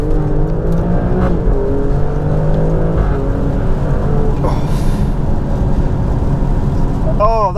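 Alfa Romeo Stelvio Quadrifoglio engine pulling hard under full acceleration with traction control off, a loud rising engine note and gear changes filling the cabin while someone talks over it.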